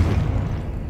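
Confringo fire spell blast in Hogwarts Legacy inside a decayed catacomb, a loud, deep, sustained rumbling boom filling the whole second with no break.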